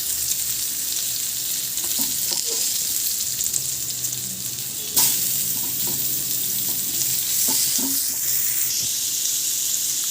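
Fish pieces fry in hot oil in a pan, a loud steady sizzle running without a break, with occasional light clinks and scrapes, and no talking.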